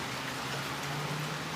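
Steady rain falling outdoors on a rainy day where American Bully dogs are let out, a continuous even hiss with a faint low hum beneath and no voices.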